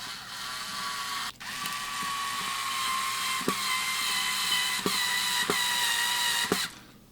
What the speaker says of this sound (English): Now I'm going to use an electric screwdriver.